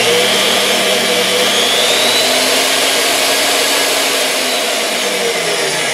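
A loud, steady motor whine runs continuously, a GARVEE magnetic drill press motor humming at constant lowest speed with no pauses.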